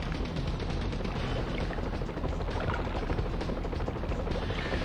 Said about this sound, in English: Helicopters also going to be flying around here.